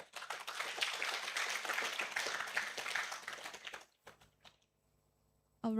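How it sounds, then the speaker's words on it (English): A hall audience at a science pitch event in Yogyakarta, Indonesia, gives the jury a lively round of applause for about four seconds, then the room falls quiet. "Please give one more warm round of applause to our esteemed Board of Jury"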